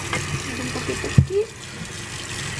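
Warm water running from a tap while a pet dog is bathed, a steady close splashing wash with a few brief knocks and thumps midway.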